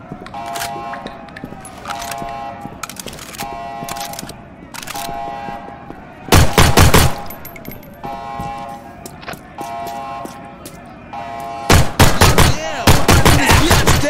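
Video game gunfire in a prison guard game, sharp bursts of rapid shots in several clusters over about fourteen seconds, loud and close, mixed with clicking game sounds and brief voices.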